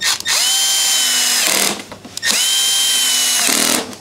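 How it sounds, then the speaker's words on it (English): Power driver running T25 screws into a BMW R1250GSA motorcycle, two loud whirring bursts of about a second and a half each with rising pitch, close up, separated by a short pause. "So now we're gonna start putting the screws in."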